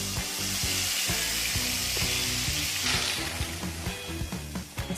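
Blended pepper mix fries in hot palm oil with a loud, dense, continuous sizzle, broken by rhythmic scraping and stirring knocks from a utensil.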